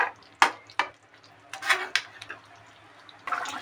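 A spoon scrapes and knocks against a pot of chicken curry being stirred, a few sparse metallic clinks and taps spaced irregularly, close and fairly quiet.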